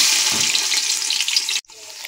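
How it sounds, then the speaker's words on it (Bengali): Chopped onion sizzles and fries in hot oil in a cooking pot, a steady dense crackle that runs loud and close before cutting off abruptly near the end, followed by a quieter hiss. "তেল গরম হয়েছে, পেঁয়াজ কুচি দিয়েছি"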